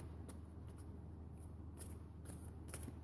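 Soft, quick bursts of playing cards being shuffled, a few riffles spread over a few seconds against a low, steady background hum.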